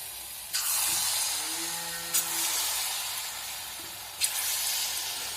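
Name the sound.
banana paniyaram batter frying in hot oil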